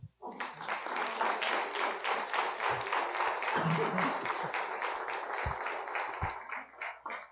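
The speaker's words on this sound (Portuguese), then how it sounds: "Vamos aplaudir o Senhor." A church congregation claps together in a dense, sustained round of applause lasting several seconds, loud and close, with a few thumps and brief voices mixed in before it starts to thin out at the end.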